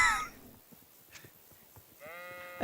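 Sheep bleating in the video game Kingdom Come: Deliverance 2, a couple of short, fairly close calls: one at the very start, then a longer wavering bleat near the end, with quiet rustling and footsteps in between.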